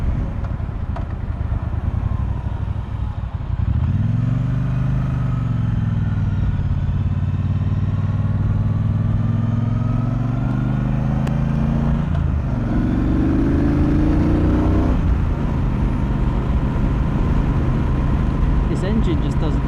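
A 2018 Triumph Bonneville Speedmaster 1200 twin rides loud and close, its engine note climbing through hard throttle pulls with a gear change midway, steady and continuous throughout.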